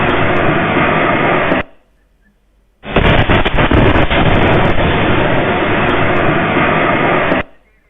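Blast at Nowgam police station in Srinagar, a late-night IED explosion, comes through as loud, harsh broadband roaring bursts: one block, a brief drop to near silence, then a longer sustained roar, band-limited like broadcast footage.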